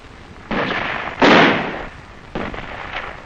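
Small arms and mortar fire during a Viet Cong ambush in Vietnam, heard as several loud, rough bursts and booming blasts spaced across a few seconds, the middle one strongest.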